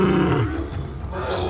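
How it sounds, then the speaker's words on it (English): Lions roar loudly and close by after a short fight, a single deep, sustained roar lasting over a second. "roar out loud as if it was a victory"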